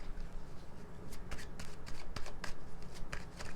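Close, brisk shuffling of a tarot deck, with quick papery riffles and flicks over a faint room hum and no voices.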